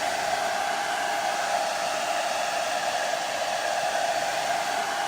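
A hairdryer blows steadily and close over a thick-formula acrylic fluid art painting made with glue medium, a constant loud whoosh with a fixed whine that never changes for the whole stretch.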